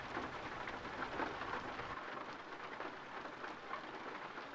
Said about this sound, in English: Oh, look at that. It's still raining.